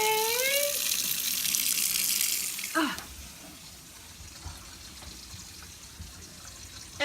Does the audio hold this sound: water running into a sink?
yes